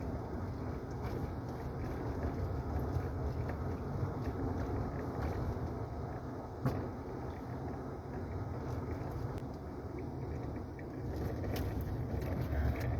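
A 1997 Buick LeSabre with the 3800 V6 cruises at about 30 mph, producing a low, steady rumble of engine and road noise inside the cabin, quiet and even with faint rattles.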